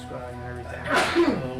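A single sharp sneeze bursts out near the end, loud and close, breaking in over a person talking during a tabletop role-playing session.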